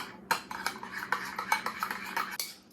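A spoon or whisk stirs a Waldorf salad dressing with nutmeg in a bowl, giving a steady run of close, rhythmic clinks and scrapes against the bowl for a few seconds, with no talking.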